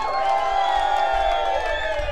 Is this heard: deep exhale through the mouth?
no